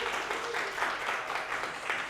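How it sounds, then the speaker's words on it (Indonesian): A class applauds the participants, brisk, even clapping from a small group filling the whole moment at close range, with no talking. "tepuk tangan dulu buat semuanya"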